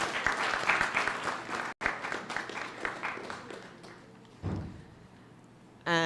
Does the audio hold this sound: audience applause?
yes